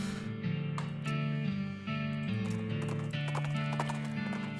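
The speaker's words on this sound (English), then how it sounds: "You've got 2 horses hitched to this wagon." Two cart horses hitched to a wagon in the video game West of Loathing clop steadily along in a continuous hoof rhythm, close and loud, over sustained low tonal music with no talk.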